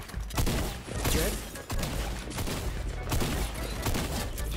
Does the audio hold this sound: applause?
no